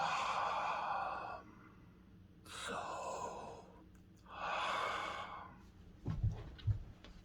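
Slow, audible exhalations shaped into the soft Soham mantra during a relaxing meditation, two long breathy sighs separated by quiet gaps, close and intimate, followed by a few soft low thumps.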